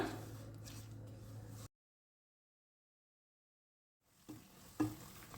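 A spoon stirs semolina burfi mixture with sugar syrup in a pan over the flame, making soft scraping and sizzling that cuts off into a silent gap, then returns with a few knocks against the pan.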